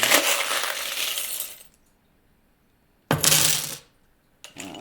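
Small charms shaken and clinking together inside a container in two bursts of bright, rattling jingle, close by, with a brief silence between and the start of a third shake at the end.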